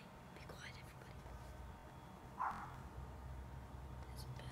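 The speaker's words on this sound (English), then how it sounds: "Just to let you know, there's birds in our front yard." A bird, likely a crow, calls once in a front yard, a single short caw fairly near over quiet background noise, with faint whispering before and after.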